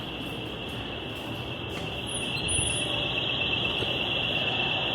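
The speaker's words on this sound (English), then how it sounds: "More fire alarms." A fire alarm on Fifth Avenue in Midtown Manhattan at night gives a steady, piercing electronic tone. It continues unbroken over the wash of street and city noise, with no voices.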